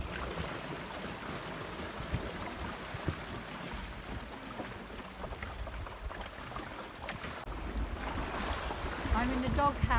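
A sailboat runs downwind across a harbour roadstead, with steady wash of water along the hull, wind buffeting the microphone and low broadband rushing that builds slightly toward the end.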